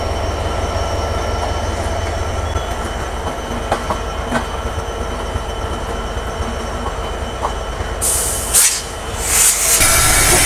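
The Banglabandha Express pulls out of Santahar Junction, its carriages rumbling with a steady rolling clatter and a few wheel clacks, and a sharp high wheel squeal breaks in near the end.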